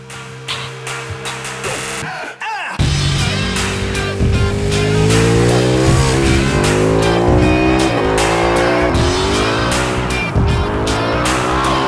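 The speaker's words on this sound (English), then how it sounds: "we put the 1299 through its paces at the seaside circuit of Portimao in southern Portugal" A Ducati 1299 superbike screams around the Portimao seaside circuit in southern Portugal, its loud engine note rising and falling through gear changes as it revs hard past a close vantage point, with no talk.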